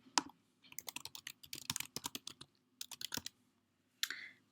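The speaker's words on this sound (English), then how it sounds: "I'm going to type that in." Close, crisp keystrokes on a computer keyboard come in quick bursts separated by short pauses, ending with a single heavier key press, in an otherwise quiet room.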